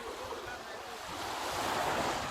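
Sea waves washing onto a Thai beach with a steady, swelling surf roar and wind buffeting the microphone, building slightly louder toward the end, with no talk.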